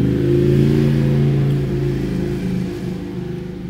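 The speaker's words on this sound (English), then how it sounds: "Motorcycle." Motorcycle engine revving, a loud, continuous droning hum that rises and eases slightly as it holds near and steady.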